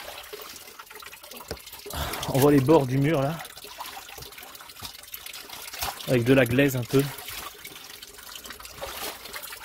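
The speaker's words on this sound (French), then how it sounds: "un ruisseau dans la forêt" A small forest stream trickles steadily in the background, a soft continuous wash of running water that carries on under someone talking in French.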